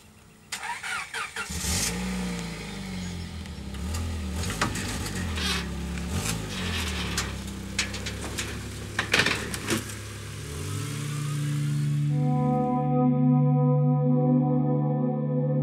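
A 1999 Honda Civic Coupe race car, a Slinger B entry, revs loudly nearby in sharp bursts before settling into a steadier, sustained engine drone toward the end.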